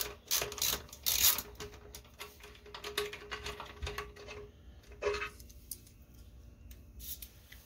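Hand tools turn a 5mm Allen head bolt beside the reserve tank during removal of a Yamaha Virago 1100 motor, giving close, irregular metallic clicks and ratcheting taps with scrapes, alone without talk.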